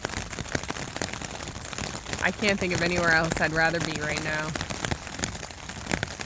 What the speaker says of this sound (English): The sun is shining and it's pouring rain.